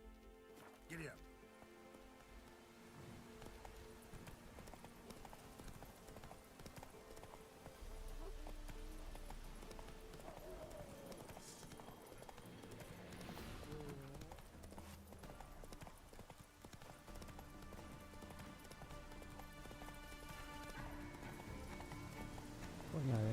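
A horse gallops in The Witcher 3, with rhythmic hoofbeats running under game music and ambient sound, and a voice speaking over it.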